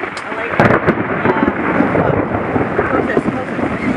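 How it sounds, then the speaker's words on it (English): Thunder rolling during a thunderstorm at a lock station on a sailing trip, a loud sustained rumble over steady rain, with a sharper crack near the start. "Is that a thunder?"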